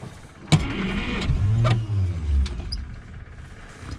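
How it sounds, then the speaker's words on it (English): A 1948 Studebaker engine, long abandoned, cranks after a sharp click, catches briefly with a low rumbling turnover, then fades, heard close by without talk. "Key on, then you just whammy the clutch pedal down to crank it over."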